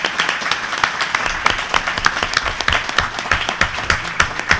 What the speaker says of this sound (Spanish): ¿qué les parece si los despedimos con un aplauso antes de los autógrafos?